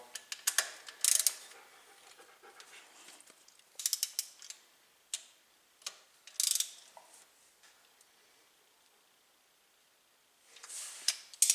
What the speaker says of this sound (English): we're just going to go around in a crisscross pattern and just kind of final tighten these suckers